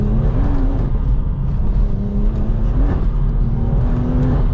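Engine of a 580 hp big-turbo BMW M240i with ZF gearbox accelerating on a night drive, a loud continuous cabin drone with rising and falling tonal pitch as revs climb.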